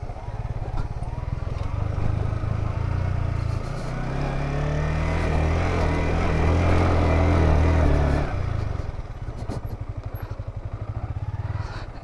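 A motorbike ridden on a steep mountain road in the Mirinja Valley hills, its engine droning close and loud throughout, swelling to a heavier, lower roar in the middle before easing back to a steady putter.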